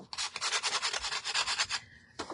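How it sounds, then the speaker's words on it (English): A Dollar Tree sanding block rubs back and forth over wood in quick, even rasping strokes, close and moderately loud, pausing briefly before one last stroke; no voices. "I'm just using the Dollar Tree block, sanding blocks."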